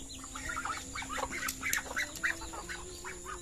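Soft, rapid clucks and chirps come from a chicken among other fowl, faint against a steady outdoor hum.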